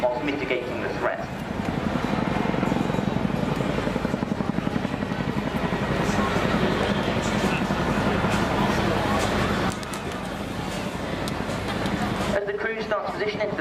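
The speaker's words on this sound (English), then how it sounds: "The 27 Squadron team are proud to bring you the Chinook display" A Chinook helicopter's heavy, steady rotor thump and engine roar fill the air loudly at an air show flying display, holding close and constant before easing slightly near the end.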